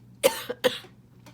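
Two short, sharp coughs in quick succession, close and fairly loud, followed by a faint breath.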